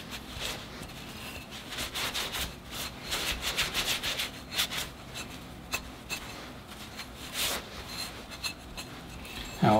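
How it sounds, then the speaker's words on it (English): Cloth or hand rubbing excess oil off a bonsai pot, including the underside of its feet, in a steady close scrubbing rhythm of soft repeated strokes with no talking. "I'm just rubbing that oil, the excess oil, away, removing most of that shine"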